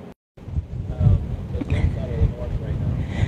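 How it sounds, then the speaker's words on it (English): Gusty wind from Hurricane Michael buffeting the microphone on the Florida coast, rough roaring bursts with a brief dropout at the start and a person speaking over it. "The wind"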